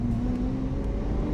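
A car engine drones loudly and steadily with a deep rumbling tone, sounding like it is held at revs, with no talking.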